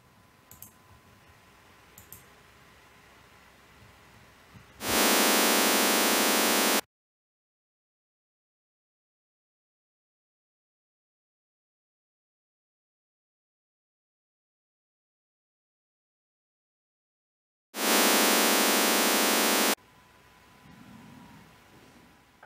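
A Klippel multi-tone loudspeaker measurement test signal sounds as two loud, dense broadband bursts of about two seconds each, separated by a long stretch of silence, with faint room noise and light clicking around them.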